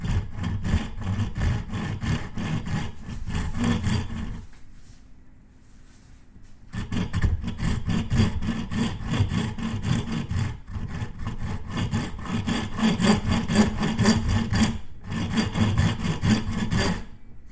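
A hand saw rips through wood for a workbench, cutting in steady back-and-forth strokes that run loud and close, stopping for a couple of seconds midway before resuming at the same rhythm.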